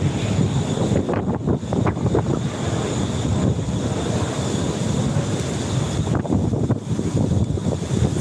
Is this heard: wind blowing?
yes